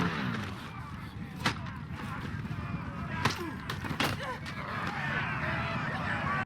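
Several sharp gunshots crack out at irregular intervals over a steady rumbling background, some louder and closer than others, in a Mad Max film scene.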